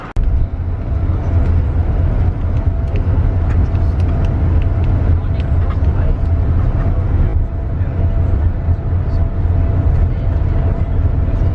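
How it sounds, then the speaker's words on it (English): A bus drives along the road from Belgrade to Skopje, its engine a steady, loud low rumble with continuous road and tyre noise from start to finish. "We are actually traveling in this bus"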